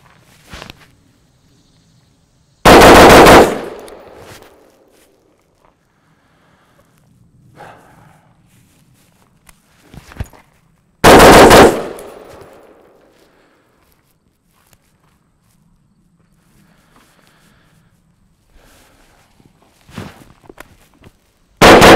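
Loud, sharp gunshots at a shooting range ring out one at a time with long gaps between, each followed by a brief decay, with faint shuffling and movement in between.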